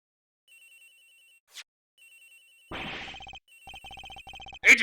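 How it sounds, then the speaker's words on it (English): Telephone ringing in the Ace Attorney Investigations: Edgeworth game, with repeated electronic trilling rings in separated bursts, growing denser and louder toward the end, alone without speech. "Agent Hicks's phone! It's ringing from somewhere"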